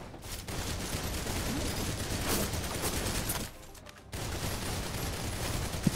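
Enemy gunfire in the co-op shooter Snowbreak: Containment Zone rattles as a dense, sustained fusillade, dropping briefly to quieter ambience midway before the rapid shots resume at moderate loudness.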